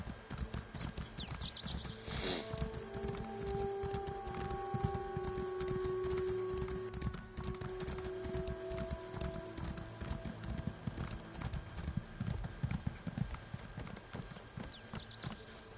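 A horse in Elder Scrolls Online clip-clops with a steady, rhythmic hoof beat that continues throughout, moderately close, alongside game tones and a few brief tonal effects, with no talking.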